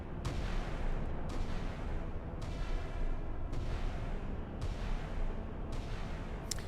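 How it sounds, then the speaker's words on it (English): Anti-aircraft barrage aimed at incoming HARM missiles in the naval combat game Sea Power, a dense, continuous roar of rapid gunfire with periodic heavier bursts about once a second, loud and unbroken throughout. "They're shooting at harms, which is a thing, so. Let's see if any of our harms get through this barrage."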